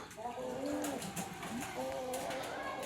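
Pigeons coo softly in repeated low, throaty phrases, close by, over a busy background of chatter and ambient noise; one is a big-feathered, yellow-eyed high-flyer pigeon.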